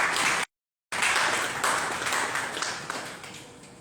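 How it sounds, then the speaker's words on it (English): An audience at a political dialogue event applauds a panelist with steady, dense clapping that carries on through the clip, briefly cut out near the start and tapering slightly toward the end. "Give me a hand of applause,"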